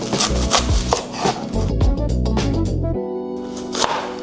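A knife chopping banana heart for Filipino kare-kare, with a quick series of close, crisp cutting taps on a board heard over steady background music.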